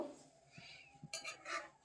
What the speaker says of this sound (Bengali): আর আস্তে আস্তে নাড়তে হবে নাহলে কিন্তু পিঠাগুলো ভেঙে যেতে পারে